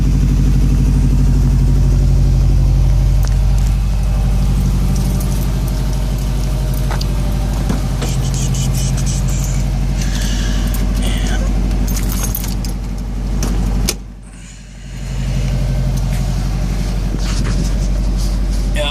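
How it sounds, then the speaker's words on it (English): A 2006 Subaru STI fitted with a Crawford exhaust idles in a steady, close, low rumble, with a faint jangle of keys and a brief drop in level partway through. "Crawford exhaust sounds real nice."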